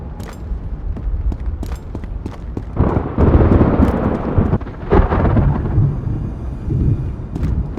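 Thunder rolling through a stormy scene in the survival shooter Road to Vostok, loud, deep rumbling swells with a heavier crack near the middle and sustained low rolls throughout.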